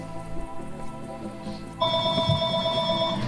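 A mobile phone ringtone sounds loud and steady after a short quiet stretch, its bright repeating melody continuing to the end with a low background rumble underneath.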